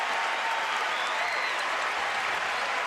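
Crowd applause fills a basketball arena during a Kansas Jayhawks at TCU Horned Frogs game, a steady, dense wash of clapping that runs unbroken throughout at moderate distance.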